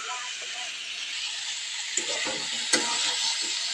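Mixed vegetable fry sizzles and gets stirred in a pan in a village kitchen, a continuous close hiss with a couple of sharp scraping clacks; a voice talks faintly underneath.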